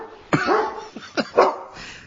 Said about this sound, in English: Is there a dog there?